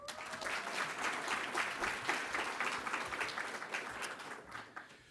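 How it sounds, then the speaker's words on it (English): Applause for an honoree at an air traffic controllers' gathering for the Fort Worth Center, a sustained roll of many hands clapping at some distance, easing slightly near the end. "Round of applause for John."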